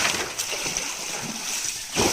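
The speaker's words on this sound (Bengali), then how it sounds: "তাই জল ফেলানো হচ্ছে।" Water splashing and sloshing as it is bailed out of a shallow pond or ditch during prawn fishing in Havelock Krishna Nagar, a steady run of close, wet splashes with a louder splash at the end.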